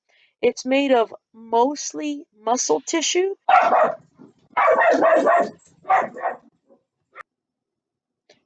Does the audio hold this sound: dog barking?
yes